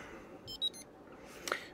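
A Futaba 8FG radio transmitter powers on with a few short, high electronic beeps close by, followed by a brief sharper chirp over a soft background hiss.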